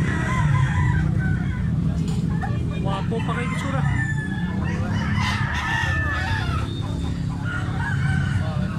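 Chickens and a rooster on a Filipino vegetable farm, crowing and clucking steadily at close to middle distance, mixed with people talking throughout.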